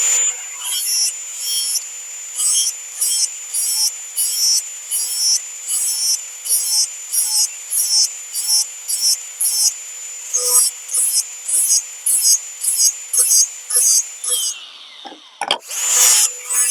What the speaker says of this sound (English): So we're just going to hit this with the grinder real quick and put a